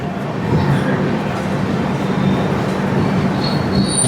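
A passenger train running between Kolkata and Chennai, heard from on board as a loud, steady rumble of wheels and carriage noise with faint high squeals.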